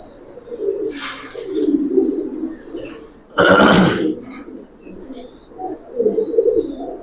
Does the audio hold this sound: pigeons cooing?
yes